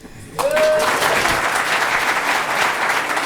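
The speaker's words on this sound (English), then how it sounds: "You are going to participate, I hope, by applause." An audience at a political leaders' debate bursts into sustained applause, a loud, dense wash of clapping that starts abruptly and holds steady throughout.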